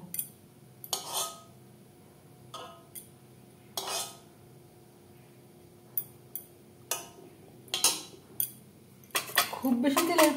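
A metal idli plate is greased with a little oil, giving scattered clinks and clatters of metal at irregular intervals, close and moderately loud over quiet background.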